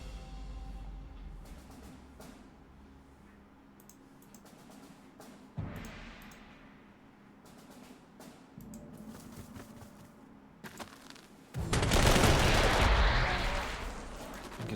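Artillery fire in the World War II strategy game Panzer Corps 2 at Seelow Heights, 1945: a low rumbling barrage with scattered bursts, swelling to a loud, dense roar of explosions near the end.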